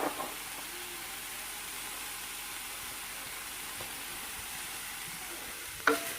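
Green onions and herbs sizzle faintly but steadily in a hot pan, a soft continuous hiss with a couple of small clinks, and no one talks.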